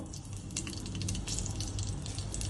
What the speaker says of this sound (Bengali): আমি প্রথমে একটা কাঁচা লঙ্কা ফোড়ন দেব